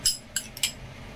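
Utensils clink against a cooking pan while fish is stirred, giving three short, light metallic taps in quick succession with no talking.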